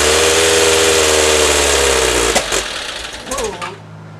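A Meyers Manx dune buggy engine runs on choke with a loud, fast rattling idle that stumbles and fades in its final second as it dies down, heard up close.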